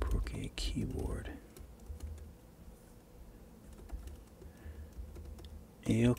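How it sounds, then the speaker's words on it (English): Rapid clicking of keys on a computer keyboard used for drawing in Procreate, a close, irregular run of taps, with brief soft speech or breathy voice at the start and end. "Procreate keyboard"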